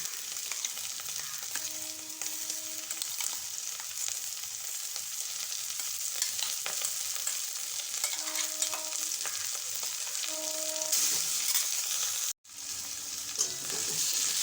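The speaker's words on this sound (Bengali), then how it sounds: "এবার দিয়ে দেবো কাঁকরোলের শাঁস আর চিংড়ি মাছটা, যেটা মিক্সিতে একটু ঘুরিয়ে নিয়েছিলাম।" Teasel gourd pulp and ground shrimp fry in a pan with onion, ginger and chili, giving a steady close sizzle with occasional stirring, continuous throughout with a brief break near the end.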